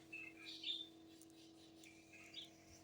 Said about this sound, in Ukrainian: Якесь пташа прилетіло. Що це таке вже за пташа, навіть не знаю. Прилетіло, як гарно співають.